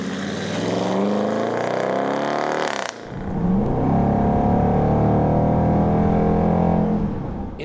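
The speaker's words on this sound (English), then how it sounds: "a deep, building-penetrating bark explodes from the tailpipes before setting into a deep and pulsating" A Dodge Durango R/T's 5.7-liter HEMI V8 barks loudly from the tailpipes, a brief dip, then settles into a deep, steady, pulsating exhaust idle, close and continuous.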